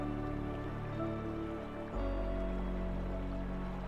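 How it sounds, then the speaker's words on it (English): River water flows steadily outside a cabin window, a continuous close wash of burbling and trickling with no break, a low rushing bed under lighter droplet-like patter. "The river's constant motion outside the window seems to carry your thoughts along with it"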